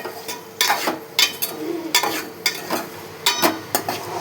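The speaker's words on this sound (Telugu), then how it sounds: "చికెన్ వేసుకోవాలి. వేసుకొని బాగా కలుపుకోవాలి." Chicken stirred in a pan with ginger and turmeric, giving repeated scraping spoon strokes against the metal over a soft sizzle, close and steady with irregular bursts.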